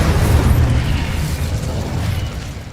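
An Incendio fire spell cast in Hogwarts Legacy, a loud roaring burst of flame that swells at once and slowly fades over a few seconds, with no talk.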